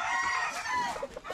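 A rooster crows once, a loud close call with a strained, rising tone lasting just over a second, with faint farmyard background.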